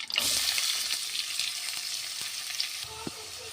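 Finely chopped onion hits a pan of hot oil with cumin for mushroom masala, sizzling steadily and loudly at first, then settling into a softer crackling fry with a few scraping stirs.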